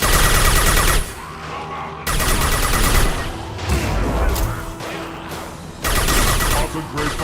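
Bursts of rapid gunfire in a Mass Effect 2 firefight, loud fusillades cutting in and out over several seconds, with in-game voices calling orders between volleys.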